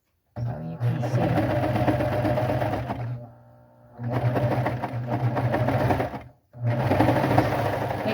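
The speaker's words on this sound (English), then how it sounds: "I'm just going to flip it over, and I'm going to serge the other side here." A serger overlocker sews the seam of a fitted waistband for pull-on pants, whirring in three sustained, loud bursts separated by short pauses.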